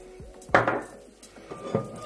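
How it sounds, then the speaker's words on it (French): Softened vegetables, including tomato, peppers and carrots, are stirred in a cooking pot for an eggplant dish. A utensil knocks and scrapes against the pot in a few sharp, irregular clatters with quieter shuffling between them, close by. "nous mélangeons le reste de légumes"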